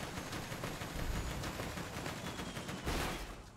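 Rapid gunfire from a weapon in the video game Borderlands 2, a dense, continuous burst of loud shots heard alone, with a heavier blast near the end.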